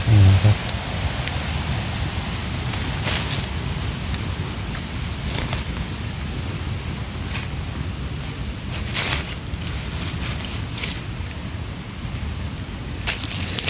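Steady rain falls in cold weather outdoors during termite mushroom foraging, a continuous dense hiss with scattered sharper drop taps throughout.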